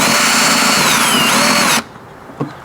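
A power drill whines steadily for almost two seconds as it drives a screw fitted with a small rubber gasket into an outdoor LED motion-sensor flood light bracket, then stops abruptly, leaving a faint click.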